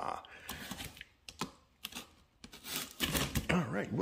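A blade slices and tears through the cardboard shipping box of a Greenworks lawnmower during unboxing, giving close scratchy ripping and crinkling bursts in an uneven rhythm, with a person talking over part of it.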